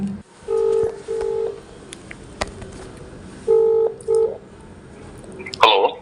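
A series of telephone keypad tones, two pairs of short beeps separated by a pause, followed by a brief click and rustle.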